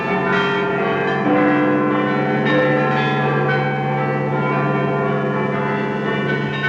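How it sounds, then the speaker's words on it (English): Church bells in Britain peal continuously, many overlapping tones ringing together in a rich, sustained clang with no voices. "Once more, the people of Britain heard their church bells ring."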